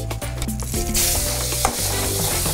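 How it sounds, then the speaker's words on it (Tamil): Fenugreek seeds, curry leaves and a little turmeric fry in hot oil for a field crab rasam, giving a steady close sizzle that runs through the whole short stretch. "எண்ணெய் ஊற்றியாச்சு வெந்தயம் போடுறோம் கருவேப்பிலை போட்டாச்சு மஞ்சத்தூள் கொஞ்சம் போட்டாச்சு"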